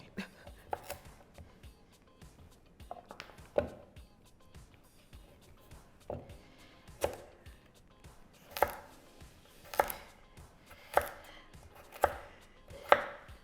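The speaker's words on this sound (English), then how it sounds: "This is another big carrot. Chop off the ends." A knife chops a large carrot on a cutting board, first in scattered strokes and then in a steady run of sharp, close knocks that grow louder toward the end, with no talk.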